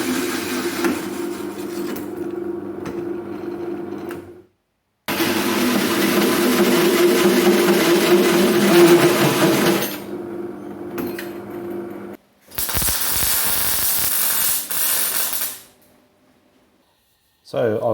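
An electric drill bores holes in a metal gasifier lid, sounding as several sustained whining bursts separated by short silences, with a harsher, brighter burst near the end.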